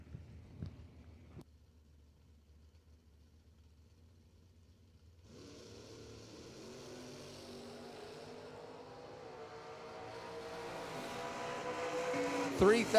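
A big block Mopar powered 1971 Dodge Demon drag racing car at a strip, engine roar building steadily from quiet to loud and close, with a crowd and announcer voices mixed in underneath.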